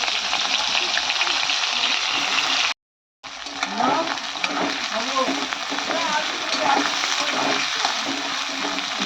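Small young onions sizzle and crackle in hot oil after potatoes have been fried, a loud, steady frying hiss with stirring scrapes, broken by one brief moment of silence.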